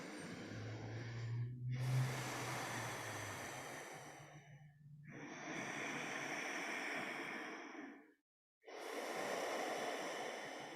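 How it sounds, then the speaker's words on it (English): Slow, deep yoga breaths, three long airy inhale-exhale cycles, each a sustained breathy rush separated by short pauses, close and quiet with no talking. "3 deep breaths."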